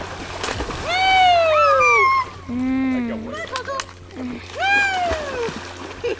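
A Great Dane swims and splashes in water, with brief splashes under loud, rising and falling whining, yelping vocal sounds and nearby voices.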